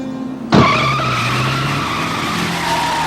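A car's tires skid loudly on a freeway in a staged crash, a sudden sharp onset followed by a sustained screeching squeal mixed with engine noise.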